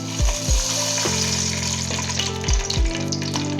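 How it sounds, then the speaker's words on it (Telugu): Ghee heats in a pan for chicken dum biryani, giving a steady sizzle broken by a few low thuds and clatters from the pan, close and with no one speaking. "ఇంకా నూనె వేయట్లేదు, నెయ్యి వేసుకుంటున్నామండి."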